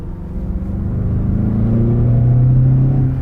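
A 2019 Mazda6 Signature accelerating on the road, a loud steady engine hum rising in pitch and volume as speed builds, with road rumble underneath, close and continuous.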